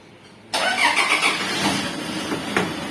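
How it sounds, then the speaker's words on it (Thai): After a moment of quiet, a Toyota Vigo pickup truck engine cranks by push-button start and catches, then settles into a steady, close rumble. "นะครับก็อัตโนมัติสตาร์ทเครื่องเลย"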